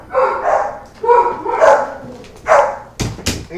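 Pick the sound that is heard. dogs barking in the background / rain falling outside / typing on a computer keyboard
dogs barking in the background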